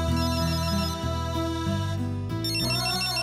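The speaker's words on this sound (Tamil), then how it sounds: "இதோ எங்க அம்மா தான் ஃபோன் பண்றாங்க." A mobile phone rings with an incoming call from a mother in a Tamil TV serial: a steady melodic ringtone with shifting tones plays alone, continuous and fairly clear.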